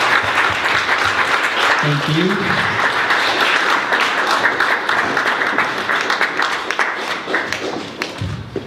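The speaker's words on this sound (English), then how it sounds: "can we get a very big round of applause for these brilliant accountants?" An audience gives a long, loud round of applause at a talk on the history of the Irish trans movement, steady dense clapping with a few thumps, and a voice briefly speaks over it.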